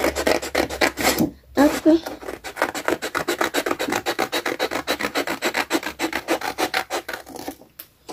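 Scissors cut through paper card while a scrapbook pocket card is made, giving a dense run of quick, rhythmic rasping snips up close, with a brief pause and a short spoken word.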